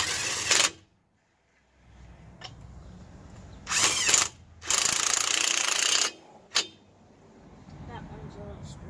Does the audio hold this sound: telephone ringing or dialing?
no